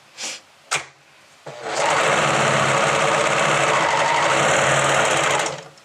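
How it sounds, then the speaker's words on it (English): A serger (overlock sewing machine) runs steadily, trimming and stitching along a fabric edge in one continuous close, loud whir lasting several seconds, preceded by a couple of brief handling knocks and no talk. "I'm going to come back around and begin serging so that way it's a straight edge"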